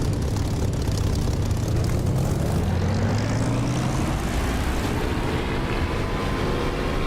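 A propeller aircraft engine in the DCS flight simulator throttles up, its rising drone climbing steadily in pitch as power builds, loud and continuous with no talk.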